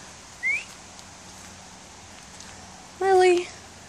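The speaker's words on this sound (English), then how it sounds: "Probably sick of me like whistling into the camera" A person whistles two short notes, a brief rising chirp and then a longer, louder tone, over quiet background noise.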